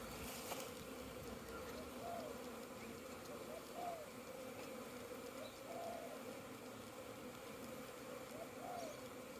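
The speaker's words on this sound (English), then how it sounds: "There's a lot of bees in there." A steady, dense insect buzz fills the clip, a continuous hum of many honey bees close by at a busy hive, with a faint low cooing bird now and then in the background.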